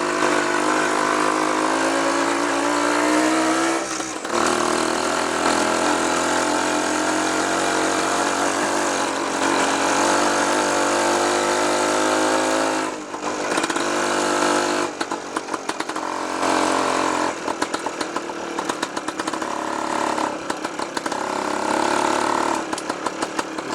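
A 1956 BSA Bantam Major motorcycle ridden, its small two-stroke engine buzzing loud and steady, with throttle changes and rough patches as the bike moves along.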